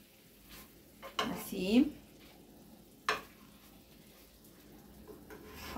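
Chicken breast with honey fries in a pan, a soft sizzle under the scraping and clinking of a utensil stirring against the pan, with brief quiet speech.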